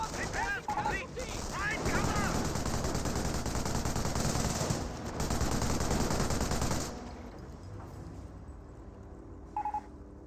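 An MG42 machine gun fires in Company of Heroes during a scoped rifle squad's push, with dense, loud gunfire and battle noise filling most of the clip. It drops away after about seven seconds and leaves a quieter tail with a brief beep.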